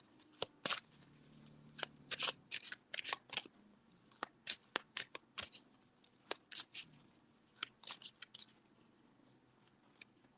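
Tarot cards are shuffled and handled in a series of crisp, quick riffles and flicks, some in short bursts and some as single snaps, close and clear over a quiet room with no talking.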